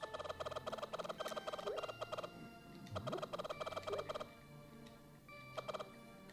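Cuckoo chickens in Kakariko Village from Zelda: A Link to the Past cluck in rapid repeated bursts, several clusters of sharp chirpy calls with short pauses between them, fairly quiet and without speech.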